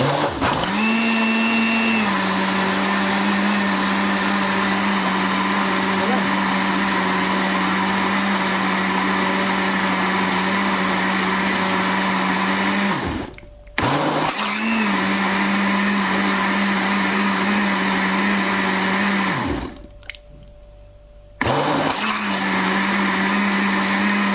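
A blender whirs loudly and steadily as it mixes baghrir batter of flour and semolina, cutting off twice briefly before starting up again, with no talk.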